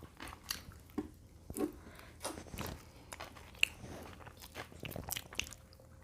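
Crisp, crunchy chewing of burnt boiled sweet potato up close, a run of bites and mouth sounds with short pauses between them, and no talking.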